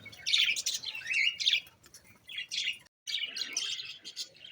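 Cockatiel chicks and their parents chirp in a breeding cage, with bright, close, repeated tweets and squawky calls in short bursts and a brief gap.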